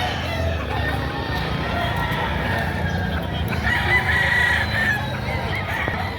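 A full bullstag rooster crows and clucks close by amid a busy poultry market, with steady crowd noise and voices in the background.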